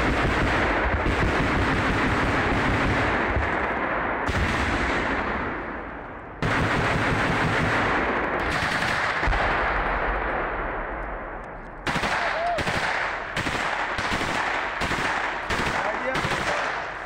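Automatic weapons fired by motorized rifle soldiers during a shooting exercise, long sustained bursts of loud gunfire followed by a rapid series of sharp separate shots, with shouting voices amid the firing.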